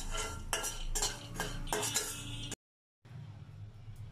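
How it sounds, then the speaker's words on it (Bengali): Fried peanuts scooped out of a wok with a metal utensil, giving scraping, clinking strokes in quick bursts, then a short silent gap before softer stirring noise resumes. "এখন আমার বাদাম ভাজা হয়ে গেছে, আমি তুলে নিলাম।"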